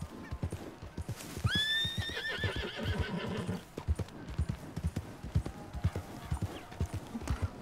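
A loud, wavering whinny from a horse in Red Dead Redemption 2, set against a steady clip-clop of hooves that continues after the neigh fades, with faint voices in the background.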